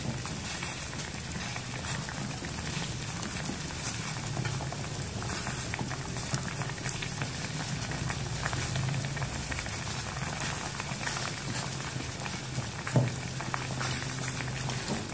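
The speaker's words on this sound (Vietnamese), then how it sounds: "Các bạn đun sôi cho mình khoảng 2 phút nhé để cho nước củ dền này nó ngấm vào củ đậu" Beetroot water with pieces of jicama boils steadily in a pot, a continuous close bubbling and pattering with occasional louder pops and no voices.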